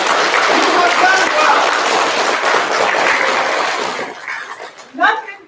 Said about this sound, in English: So give a big clap for yourself.